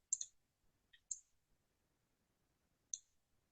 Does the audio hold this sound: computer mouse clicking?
yes